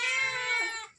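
A cat gives a single drawn-out, high-pitched meow lasting about a second, close and clear, trailing off at the end with no voices over it.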